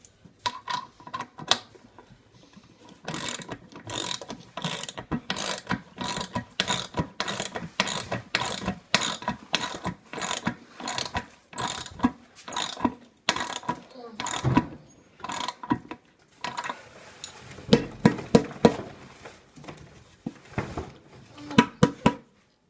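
A hand ratchet cranks bolts down into a hand-hewn log with washers beneath, steady repeated clicking strokes in long close runs, pausing briefly between bursts.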